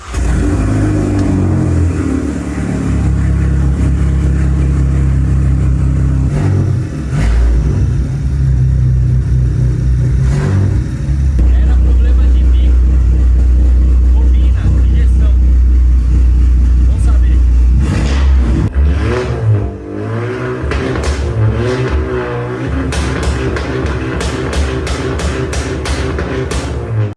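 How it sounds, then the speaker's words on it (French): A Volkswagen Jetta TSI turbo engine revs hard and drops back several times, loud and close, with rising whines and steady rumbling between the bursts. "Écoutez le ronronnement de cette TSI,"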